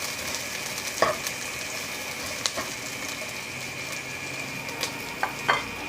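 A white onion sautés in a pan with a little oil, giving a steady close sizzle throughout with a few sharp clicks as a utensil stirs it.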